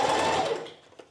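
A brief run of sewing machine stitching around a dress armhole, a close, dense mechanical whir that fades out after about half a second, leaving faint small clicks.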